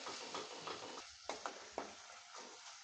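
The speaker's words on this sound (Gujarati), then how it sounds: "આપણા ટમેટા એકદમ સરસ સંતળાઈ ગયા છે અને સાથે મસાલા પણ સંતળાઈ ગયા છે" Tomatoes and spices sauté in oil in a pan over a low gas flame, a steady close sizzle broken by a few short stirring scrapes and ticks of the spoon, with no talking.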